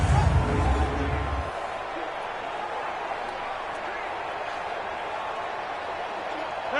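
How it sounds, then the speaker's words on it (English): A roaring stadium crowd inside a domed arena in the Madden NFL football video game rumbles as a dense, steady wash of sound that fills the whole stretch, with a brief low thump near the start. "The crowd here in the Dome making things difficult."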